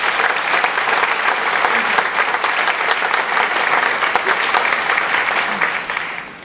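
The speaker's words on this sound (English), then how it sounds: "Let's give him a round of applause." Sustained applause from a sizable banquet audience after a talk, dense steady clapping for several seconds that tapers off at the end.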